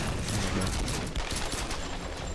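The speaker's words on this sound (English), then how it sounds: "I end up just pulling out the gun and having a bit of a frantic close quarters shooting match" Rapid gunfire fills a frantic close-quarters shootout in Tomb Raider, a dense, loud barrage of overlapping shots with no pause and no talking.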